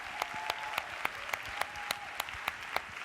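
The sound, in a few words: applause for counsellors and delegate speakers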